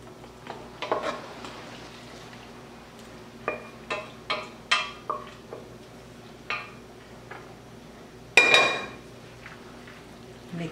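Pasta shells dropped into a pan of creamy white sauce and stirred, giving a string of light clinks and scrapes against the pan followed by a louder, longer scraping stir near the end.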